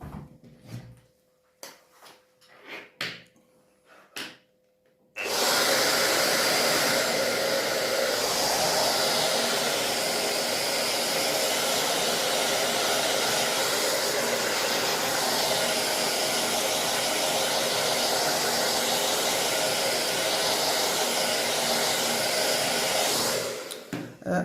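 A hair dryer blows steadily on a watercolour painting of birch trees, switching on loud and close after about five seconds of quiet handling noises and running as an even, continuous whoosh for nearly twenty seconds before cutting off.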